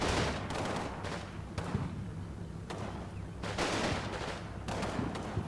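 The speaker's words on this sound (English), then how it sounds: "Looks like the mortar landed there." Mortar rounds landing in a military training campaign video game, a series of heavy booming impacts spaced a second or so apart over a continuous low rumble of battle noise.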